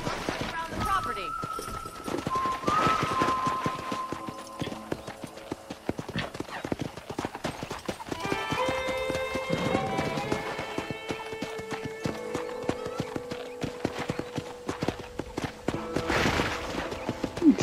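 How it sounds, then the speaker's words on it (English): Steady clip-clop of horse hooves in Red Dead Redemption, with a horse neighing a couple of times, music tones, and a voice speaking over it. "let's see if you can still ride a horse"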